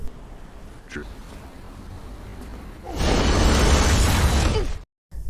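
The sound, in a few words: explosion of a thrown bomb in a film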